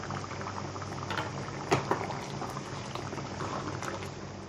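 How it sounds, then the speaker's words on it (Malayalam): A pot of curry boils with a soft, steady bubbling close by, and a couple of brief knocks or clinks stand out partway through. "കറി നന്നായി തിളച്ച് വന്നിട്ടുണ്ട്."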